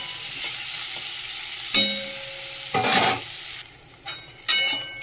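Bitter gourd fries in a pan with turmeric on low heat, a steady soft sizzle broken by several loud scraping and stirring clatters from a spatula.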